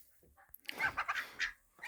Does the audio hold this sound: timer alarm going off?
no